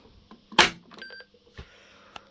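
An intruder alarm panel keypad sounds a few short electronic beeps while being reset, mixed with clicks and button presses and one louder knock, close and sparse.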